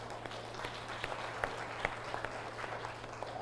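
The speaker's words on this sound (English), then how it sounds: "Please give a round of applause to Professor Yanis." Audience applause at a national science and digitalization conference session, a steady wash of many hands clapping with scattered sharper claps, moderately quiet and even throughout.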